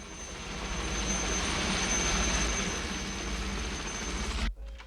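A helicopter's steady engine and rotor roar fills the air loud and close, holding constant for several seconds before cutting off abruptly.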